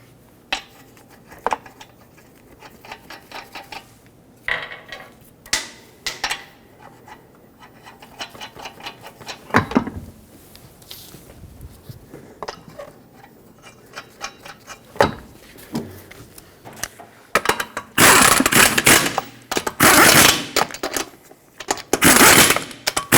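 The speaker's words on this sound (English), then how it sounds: "now start in all 5 of your lug nuts. We'll bottom them out and torque them to 79 foot-pounds in a cross pattern" Lug nuts on a 2006-2010 Hyundai Sonata front wheel are run in and tightened, giving scattered metallic clinks and scrapes, then louder bursts of rattling tool noise toward the end, with no talking.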